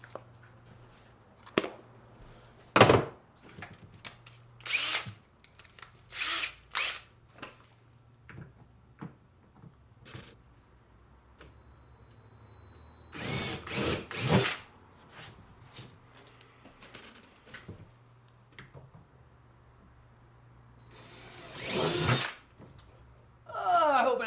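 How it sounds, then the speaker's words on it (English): Intermittent bursts of a power drill whirring as it drills through plastic on a boat, loud and close, with short pauses and scattered clunks and knocks between runs. "we're going to drill out that hole to match"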